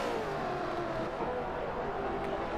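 Race car engines drone and rev steadily through heavy braking at Spa in a sim racing broadcast of Chevrolets, with a sustained pitched whine sweeping gently downward at moderate level, with no talk.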